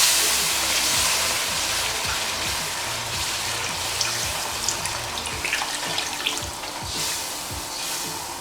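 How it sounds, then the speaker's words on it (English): Water pours steadily and loudly into a pot of Nigerian jollof rice, a continuous splashing rush with some gurgling and sizzle beneath, close up and with no talk. "So I'm gonna add a little water to loosen it also"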